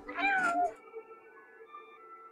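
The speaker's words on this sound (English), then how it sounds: "it looks like a regular cat in a world of like robots." A cat in the Stray game trailer gives a single clear, close meow lasting about half a second, then a quiet electronic hum carries on beneath it.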